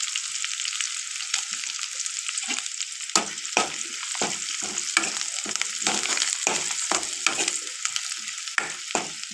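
Lentils fry in a hot pan for a tomato and broad bean curry, giving a steady close-up sizzle punctuated by repeated scraping stirs of a spoon against the pan.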